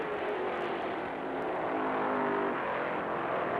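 Richard Petty's stock car, fenders smashed, roars past Cale Yarborough's car during a race, a broad, steady engine drone that swells slightly near the end.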